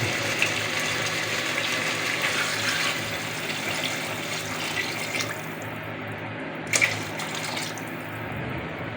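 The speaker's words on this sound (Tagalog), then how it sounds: "Ilalagay na po natin ang ating tubig." Water pours steadily into a cooking pot as broth for sinigang, a continuous rushing splash, fairly close, with a brief clink near the end and no voices.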